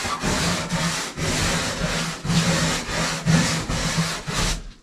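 A brush rubs finish back and forth into wood in steady repeated strokes, close and fairly loud, each pass a broad scratchy swish with brief pauses between strokes.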